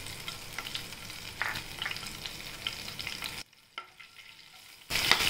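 Cumin seeds hit hot oil for a sweet and sour dahi kadhi tempering, giving a steady close sizzle that briefly drops away and then flares back louder.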